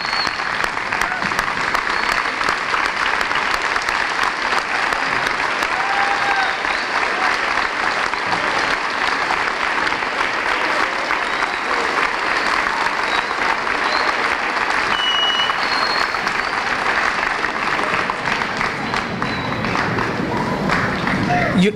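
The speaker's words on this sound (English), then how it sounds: "extending a round of applause for our teachers" Students at a middle school bridging ceremony applaud their teachers in dense, continuous, loud clapping from a large crowd that never lets up.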